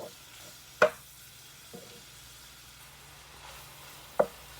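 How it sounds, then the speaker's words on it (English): Crumbled sausage frying in a pan, with a low steady sizzle, a few sharp spatula scrapes and taps as the meat is broken up, and no talking. "after your sausage starts cooking, it's easier to start breaking it up"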